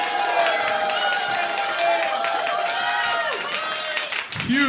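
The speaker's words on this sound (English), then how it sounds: "support from the crowd." A crowd at a robot combat world cup match cheers, whistles and claps loudly for a team's combat robot, a sustained excited roar with high whistles and shouting voices.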